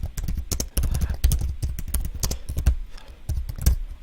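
Rapid keystrokes clatter on a computer keyboard as a prompt is typed into an AI presentation tool, close and crisp, in uneven bursts with brief pauses.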